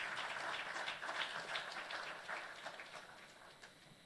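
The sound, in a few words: audience round of applause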